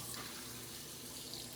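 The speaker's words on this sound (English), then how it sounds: "top with soda water" Soda water pouring over fresh ice and strained lemonade in a pint glass, a steady, close fizzing hiss with no talk, lasting under two seconds.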